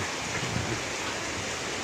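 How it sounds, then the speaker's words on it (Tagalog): First May rain falling outdoors at home, a dense steady hiss of rainfall with no distinct drops standing out, continuous and fairly loud throughout. "unang ulan ng Mayo dito sa amin"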